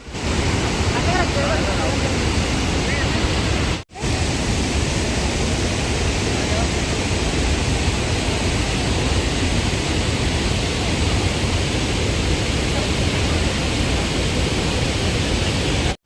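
Rhine Falls waterfall in Switzerland roaring as a loud, dense, unbroken rush of water heard from close by, briefly cut off once early on, with no voices standing out.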